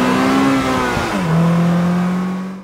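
A Polaris Slingshot's high-revving engine screams loudly and close, holding a steady high pitch, dipping briefly as it shifts, then settling into a sustained lower drone that fades slightly at the end, with no talking.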